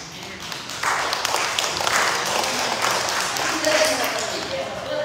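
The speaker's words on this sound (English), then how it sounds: "You're happy about clapping hands?" Church congregation clapping hands at an anniversary celebration service, a steady patter of applause that swells and holds for several seconds, mixed with voices and a faint ringing tone.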